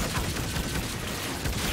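A futuristic energy shotgun in a first-person shooter video game fires in a rapid, loud burst of blasts, with dense overlapping gunfire filling the short stretch and no talking.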